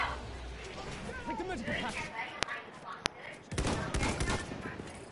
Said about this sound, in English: I get sniped instantly.